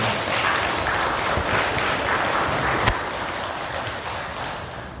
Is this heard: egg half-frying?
no